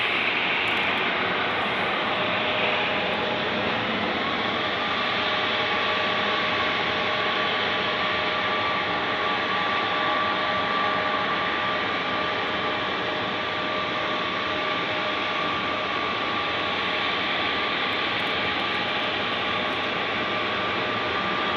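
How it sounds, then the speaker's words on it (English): Steady, broad roar of jet aircraft engines at Munich airport, a continuous loud wash of engine noise with a faint tonal hum running underneath, no talking. "You guys are here for the jet noises."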